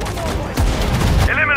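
Rapid bursts of gunfire from the Sudden Strike 4 WWII strategy game, at the 1943 Battle of Mareth Line, rattle loudly and continuously while a voice shouts over the shooting.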